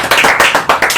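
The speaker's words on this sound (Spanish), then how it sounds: "Un aplauso a Eli." Short burst of group hand clapping in a class gathering, cheering a participant named Eli on her birthday; loud, brisk claps in quick waves, close by, lasting about a second.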